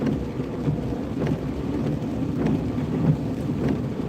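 Rain during a two-wheeler ride, a dense continuous patter and hiss with rushing wind and low rumbling, steady and close throughout.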